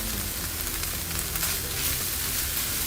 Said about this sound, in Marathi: आता हे सगळं व्यवस्थित मिक्स करायचं आणि गॅस बंद करायचा